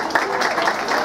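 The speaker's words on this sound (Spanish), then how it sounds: "¡Fuerte el aplauso!" Brief burst of crowd clapping at an outdoor-style symphonic youth band concert and tribute event, a dense, steady patter of many hands heard for about a second.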